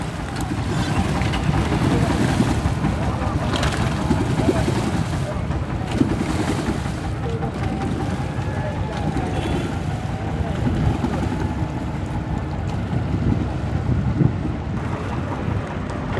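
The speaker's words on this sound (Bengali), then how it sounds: "এটাকে ট্রলার বলা হয়, ইঞ্জিনবাহী ট্রলার বলা হয়।" An engine-powered trawler boat on a river, its low motor drone churning steadily throughout amid wind buffeting and water wash, close and continuous.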